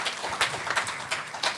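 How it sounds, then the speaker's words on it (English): Audience clapping for a speaker at a national early-childhood conference, a brief, moderately loud burst of many hands. "Give him a round of applause"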